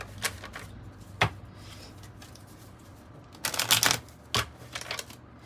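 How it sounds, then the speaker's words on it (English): Tarot and oracle cards are shuffled in a few separate bursts of crisp riffling and slapping, close by and otherwise quiet between the handfuls. "We're going to mix up the cards a little bit too."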